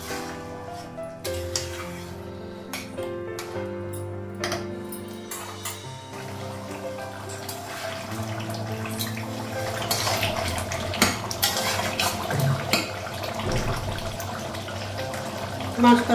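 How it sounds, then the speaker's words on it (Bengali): A kitchen tap runs to draw water for the gravy of a mutton curry, making a continuous splashing flow close by. Clinks from dishes and pots come and go over the water. "ঝোলের জন্য জল লাগাবো।"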